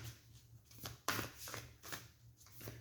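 Tarot cards being shuffled by hand, a papery riffle and soft slapping in several bursts with one sharper snap near the middle, close and fairly quiet over a low background hum.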